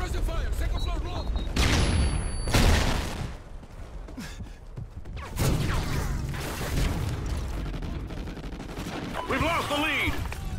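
Heavy suppressive gunfire in the video game Call of Duty Ghosts, with loud bursts, booms and rattling automatic fire that continue throughout, mixed with shouted voices and radio chatter.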